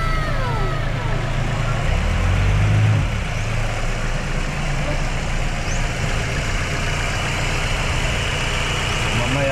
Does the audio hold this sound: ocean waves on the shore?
no